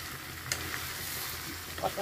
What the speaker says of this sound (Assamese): আজি দুপৰীয়া কঁঠাল আৰু ব্ৰইলাৰ মাংস এয়া বনাই আছোঁ